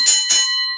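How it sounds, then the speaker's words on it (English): A wrestling ring bell clangs twice in quick succession to start the first match at a New World Wrestling event, loud and close, the second strike ringing out in a long metallic decay. "that is the sound of our bell as our first match gets underway here"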